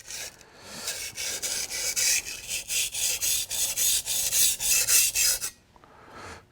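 A kitchen knife drawn across a whetstone in steady, even back-and-forth strokes, about a dozen rasping scrapes in quick rhythm, close and clear with no talk, stopping near the end.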